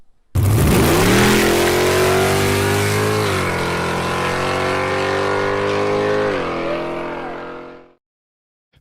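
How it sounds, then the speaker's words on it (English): A drag racing car accelerates hard and loud from close by, its engine roaring in one sustained, rising blast for several seconds before cutting off abruptly. "that drag car went to 100 miles an hour in a couple seconds"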